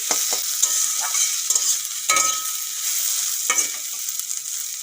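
Chopped tomatoes sizzle and fry in a pan for egg chowmein, with scraping stirs at regular intervals over a steady hiss, close and fairly loud.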